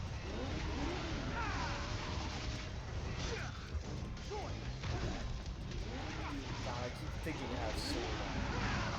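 Engine revving in Devil May Cry 5, a loud roaring motor mixed with crashes and impacts under dense game action, with a voice talking over it.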